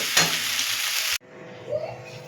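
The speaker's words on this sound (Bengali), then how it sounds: "এবার এটাকে আমরা নাড়াচাড়া দিয়ে নামিয়ে নেব" Vegetable patty filling stirred in a pan, a steady broadband sizzle with scraping that cuts off abruptly midway, leaving a quieter hiss with faint clatter.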